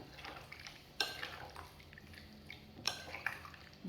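Garlic-, lemon- and oil-coated maakroun dough tossed in a pan, giving soft stirring scrapes and wet clinks, with two sharper metallic knocks at close range and no talking.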